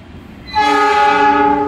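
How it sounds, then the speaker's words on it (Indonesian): The horn of the Argo Cirebon passenger train, bound from Cirebon to Jakarta Gambir, blares loud and steady for over a second at a busy Jakarta station after a quiet moment of rail ambience. "ini kereta api Argo Cirebon dari Cirebon tujuan akhir Jakarta Gambir, bawa kereta wisata"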